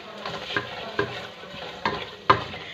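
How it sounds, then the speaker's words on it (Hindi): Semolina roasting in a pan for sooji halwa, with a spoon scraping and stirring in four distinct strokes over a soft steady sizzle, close and moderately loud. "सूजी को भून लेंगे हम।"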